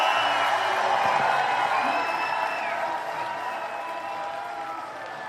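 Rally crowd in Truro, Nova Scotia cheering and applauding, with scattered whoops over a steady wash of noise that fades gradually over several seconds.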